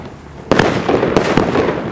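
New Year's Eve fireworks burst loudly nearby, with a sharp opening blast followed by several cracking reports and a crackling rumble between them.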